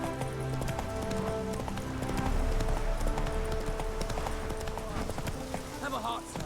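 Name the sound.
horse galloping hooves in video game The Witcher 3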